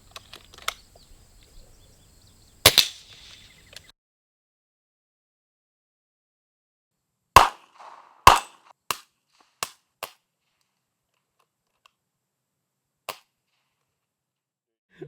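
Integrally suppressed Puncher Mega air rifle firing outdoors: sharp, short cracks, one early and a cluster of several spaced shots around the middle, with a faint final pop; light bird chirps in between.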